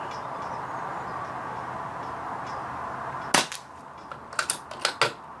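A BSA air rifle firing BSA Target pellets at a short-to-medium range target, with a sharp close crack followed by a few lighter clicks and snaps over a steady background hum.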